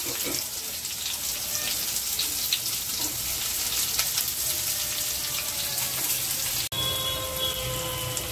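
Boiled chow mein noodles dropped into hot oil in a pan, giving a steady, dense frying hiss that runs throughout with one brief dropout near the end.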